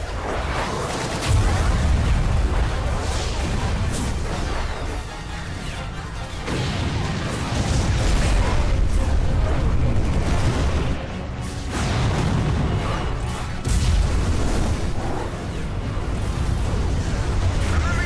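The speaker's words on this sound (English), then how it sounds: "Give word to the cannons. Make ready and fire." Cannon fire in the video game Final Fantasy XII, deep booming blasts repeating in waves over a dense rumbling battle backdrop, with heavy low-end thuds rising and falling throughout.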